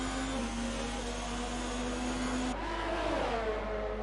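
Ferrari-engined Formula 1 cars racing in F1 2019 at the U.A.E. Grand Prix, a continuous high engine whine that holds steady, then shifts pitch as one car changes gear, with no voices.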